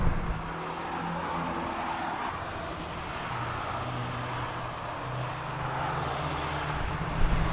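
Cars passing on the Nürburgring Nordschleife circuit in Germany, heard from a viewing area as a steady, fairly distant engine and road roar that swells slightly at the end, with no talk.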